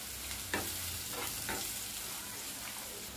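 Minced ginger frying in an oiled pan for vegetable semiya upma, a steady close sizzle with a few soft scrapes of stirring and no talk.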